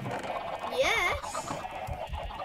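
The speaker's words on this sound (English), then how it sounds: "I will go and kill off all these chickens here" A chicken in a survival video game gives one brief, warbling cluck-squawk near mid-clip over a steady background of game ambience.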